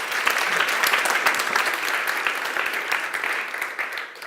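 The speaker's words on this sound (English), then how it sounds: "Okay, big applause for Yufeng." An audience at a deep learning meetup applauds a speaker, a dense burst of clapping from many hands that stays strong throughout, then thins slightly toward the end.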